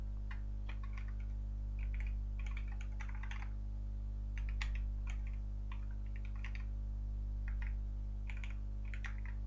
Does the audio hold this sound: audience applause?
no